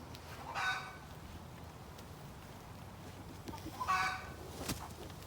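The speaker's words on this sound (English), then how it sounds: "Let's hear your crow. There you go. Oh, on cue." A farm rooster crows outdoors at moderate distance, with two separate crowing calls a few seconds apart over faint background noise and no nearby talk.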